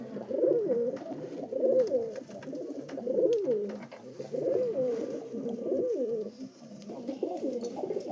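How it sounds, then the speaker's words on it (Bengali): A pair of white and green pigeons coo close by in repeated rolling phrases, each lasting about a second, one after another with no voices over them. "আর এক জোড়া পায়রা দেখুন, দুর্দান্ত পায়রা"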